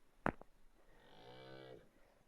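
A cow gives one drawn-out, fairly faint moo lasting under a second. A sharp knock comes just before it, and a quiet outdoor background surrounds it.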